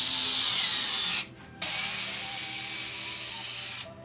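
A Hoto 12-volt cordless drill whirs steadily at high speed, cuts out briefly and then spins up again, running a little lower, close and alone with no talk.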